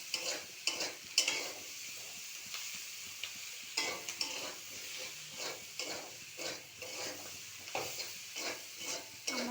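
Taro and potatoes cooked down with spices in a pan, stirred with repeated scraping strokes over a low continuous sizzle, fairly quiet and close, with no speech.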